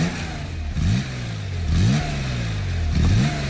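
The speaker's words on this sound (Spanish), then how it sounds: "Vamos a escuchar el sonido del motor de un Porsche que hizo historia." A classic Porsche 911 Carrera engine revs repeatedly, three rising blips with a throaty mid-range bark settling back to a steady idle between them, close and loud.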